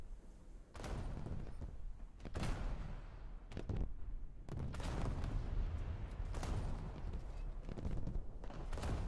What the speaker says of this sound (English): That's a torpedo. The enemy ship sank. That's several torpedoes.